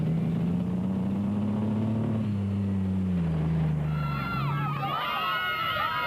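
The engine of the GBS Racing Nissan production vehicle at the Toyota 1000 Desert Race drones steadily, its pitch slowly sinking, before a crowd breaks into shouts and whistles near the end.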